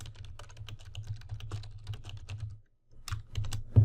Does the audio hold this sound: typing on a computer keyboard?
yes